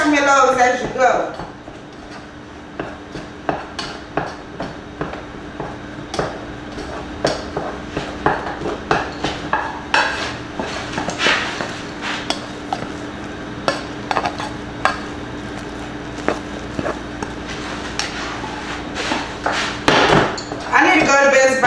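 A spoon stirs marshmallows in a pot while making crispy treats, giving a string of close metallic scrapes and clinks in an irregular rhythm, with a person talking now and then over the kitchen sounds.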